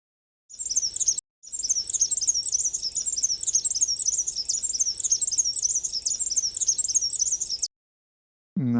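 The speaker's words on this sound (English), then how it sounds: "Aren't they beautiful? And so tiny, tiny little birds." Tiny birds in a wetland chirp in a rapid, continuous high trill, loud and close, running for several seconds after a short opening burst and brief pause, then stopping abruptly.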